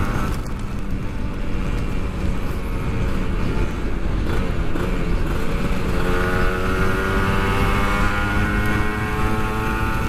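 A Kawasaki Ninja two-stroke motorcycle is ridden on a cool evening road, its engine droning steadily and loudly, then climbing in a rising whine of stacked harmonics as the throttle opens over wind noise.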